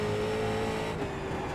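A street stock race car's engine drones steadily in iRacing at Lanier National Speedway, a loud, continuous motor tone with a sustained pitch holding throughout, close and uninterrupted.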